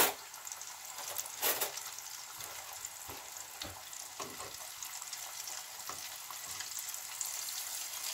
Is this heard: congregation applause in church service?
no